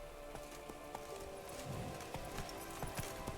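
A horse trotting in a video game, with steady clip-clop hoofbeats at a moderate pace, fairly faint over a soft ambient bed.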